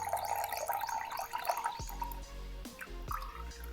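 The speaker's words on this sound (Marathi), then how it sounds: "आता ह्यातलं मी पाणी नितळून काढणार आहे" Water is drained off soaked dal for a Maharashtrian dal kanda (pendpala bhaji), a continuous close trickle and dripping of liquid with a few wet splashy gulps.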